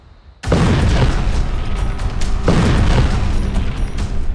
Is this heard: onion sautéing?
no